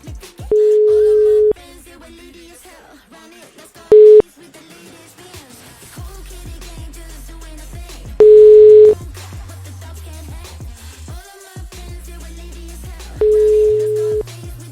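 Telephone line tones during a call with scam callers and cold callers: loud steady beeps sound at intervals over a busy background of music-like tones and low hum, without speech.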